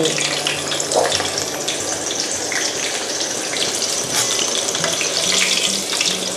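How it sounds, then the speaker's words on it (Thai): Shrimp dipped in starch and egg deep-frying in hot oil, a dense, steady, close sizzle that crackles and hisses continuously without pause, with no voices. "รอกุ้งเหลืองเดี๋ยวเราก็จะทำการทอดไปเรื่อย ๆ"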